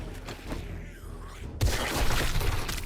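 A sudden burst of crackling, shattering noise erupts after a muffled stretch, like an explosion in 7 Days To Die with a low thump and debris rattling.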